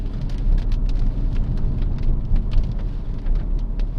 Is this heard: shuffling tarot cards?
no